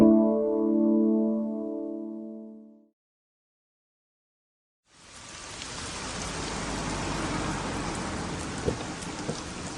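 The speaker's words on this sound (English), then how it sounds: "It's been raining for hours." Steady rain falls in a dense hiss from midway on, following a few seconds of a tonal sound and then a brief silence.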